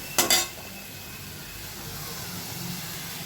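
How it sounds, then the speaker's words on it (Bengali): Tomato-based spice masala cooking in oil in a pan: a quick double clatter of a utensil against the pan opens, then a faint, even sizzle continues underneath, close and without speech. "দিয়ে একটু নাড়াচাড়া করে মশলাটাকে আমি ভালো করে কষিয়ে নেব"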